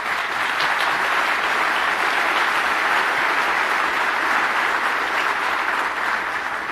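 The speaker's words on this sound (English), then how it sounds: "Stop applauding, we have to move through." Steady, continuous applause from a conference audience after a talk, a dense even wash of clapping at moderate level with no pauses and no speech.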